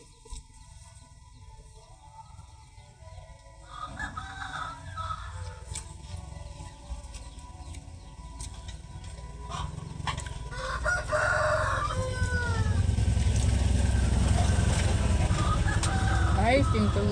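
A rooster crows loudly and repeatedly, with hens clucking and low voices talking in the background, the barnyard noise growing fuller toward the end.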